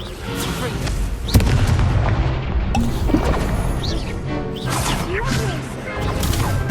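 Incendio fire spells cast in Hogwarts Legacy, a dense game combat mix of whooshing blasts, booms and crashes, with one sharp impact standing out amid continuous loud spell effects.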